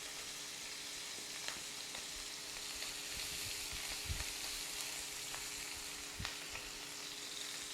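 Shredded onions frying in a little oil for Chinese mixed fried rice give a quiet, steady sizzle and hiss, with a few soft stirring bumps and no voices.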